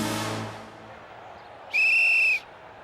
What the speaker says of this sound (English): there goes the whistle ending the first half